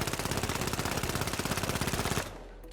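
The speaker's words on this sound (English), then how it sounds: "This gun just kind of feels like it shoots wherever it wants to shoot in the moment." Rapid automatic fire from a gun in the video game The Finals, a loud, evenly spaced stream of shots lasting about two seconds before cutting off abruptly into a quiet tail.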